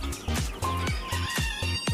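Poultry calls fill the scene: repeated loud clucks and squawks from several birds, with a crowing rooster mixed in, close by and continuous.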